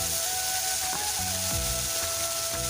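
Panch phoron spices sizzling steadily in hot oil left over from frying fish, for an Assamese fish curry with tomato, a continuous close crackle without talk.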